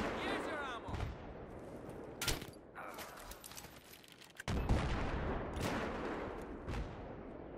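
A C4 explosion and gunfire in the Battlefield 3 video game: loud, dense booms and rattling shots, with one heavy blast midway and a burst of fire after it.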